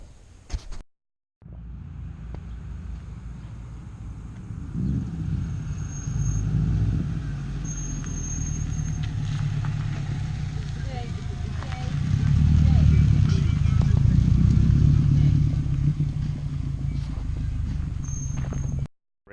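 A 2009 Subaru WRX out on a test drive after a Raceland coilover install: a steady engine and road drone heard from inside the car, swelling louder in the middle stretch, with someone speaking over it.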